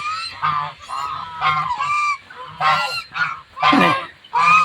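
Loud, repeated goose honks in quick bursts from several geese at a pond in Laos, calling over one another close by, with brief gaps between calls.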